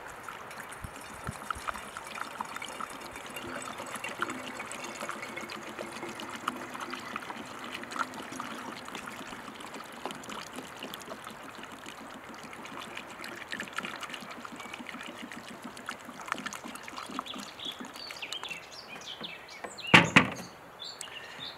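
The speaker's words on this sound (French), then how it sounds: "remplir la bouteille avec l'eau du jerrycan" Water pours from a jerrycan into a bottle in a steady, close trickle that runs for about twenty seconds. A short knock sounds near the end.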